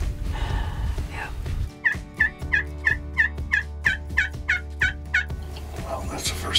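A wild turkey calls during a spring hunt in Iowa: a clear run of about a dozen quick, evenly spaced notes at moderate distance over a quiet outdoor background.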